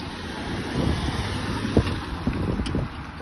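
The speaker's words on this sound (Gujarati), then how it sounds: "જોરદાર પવન આવી રહ્યો" Strong wind blows steadily in freezing cold weather with snow about, a rough, continuous rush that buffets the microphone with a few louder gusts, and no voices.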